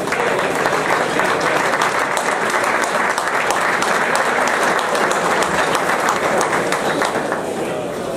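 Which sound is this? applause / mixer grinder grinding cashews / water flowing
applause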